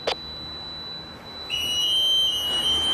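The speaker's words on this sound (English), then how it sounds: "What is that beeping noise?" A home security alarm gives a steady high-pitched beep continuously, preceded by a brief click, in a quiet room.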